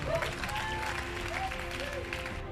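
A congregation at a church service applauds the Lord in steady, dense clapping that fills the room, with voices and a speaker's talk mixed underneath.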